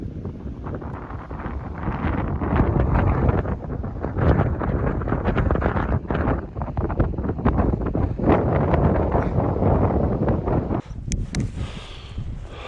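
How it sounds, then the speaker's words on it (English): Strong gusting wind roars across a snowy mountain ridge during a backcountry splitboarding trip, buffeting the microphone loudly and continuously for about eleven seconds before easing near the end. "Wind is pumping up here."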